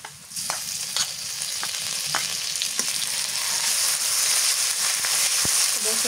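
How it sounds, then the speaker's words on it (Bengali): Onion and spices frying in a pan, a bright, continuous close sizzle with occasional stirring clicks and scrapes, running steadily throughout. "পেঁয়াজ মশলা ভাজা হয়েছে, আদা রসুন বাটা দিয়ে দিই"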